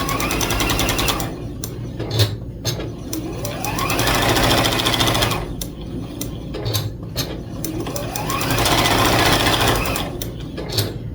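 A sewing machine stitches a quilt's honeycomb border in steady whirring runs, needle clatter and motor hum rising and easing as it pauses and restarts, close up with no talking.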